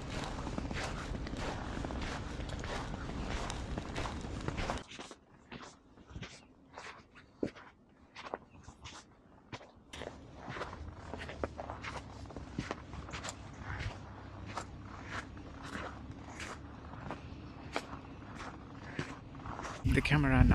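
Footsteps crunching through snow, picked up by a Comica Vimo C microphone, as a steady series of soft crisp steps after a noisy opening stretch.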